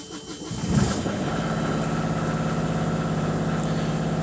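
A boat's diesel engine starts with a brief cranking surge, then catches and settles into a steady, fast, rhythmic throbbing run that stays loud and close.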